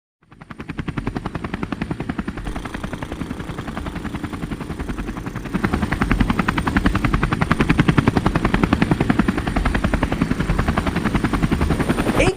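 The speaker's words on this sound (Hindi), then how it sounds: "वाव, अभी तो ये हेलीकॉप्टर उड़ेगा।" A toy helicopter flies with a steady, loud rotor chop and motor whine that grows stronger partway through, its rapid rhythmic beating running continuously with no voices.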